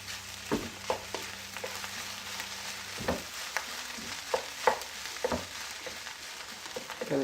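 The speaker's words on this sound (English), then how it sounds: "Gonna keep breaking the lump like that" Egg fried rice sizzles in a hot pan, with a steady frying hiss punctuated by repeated scraping and tapping strokes as clumps are broken apart, close and moderately loud with no talking.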